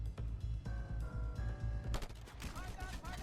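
Gunfire in the action game Just Cause 2, a burst of rapid shots and booms heard fairly quietly under a steady low rumble, growing denser and more chaotic toward the end.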